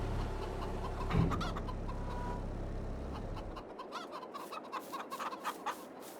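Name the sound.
chickens clucking in video game Farming Simulator 22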